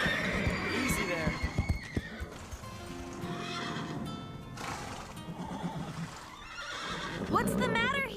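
Cartoon horses whinny and neigh with busy hoof clatter, the calls rising sharply near the end over background music and speech.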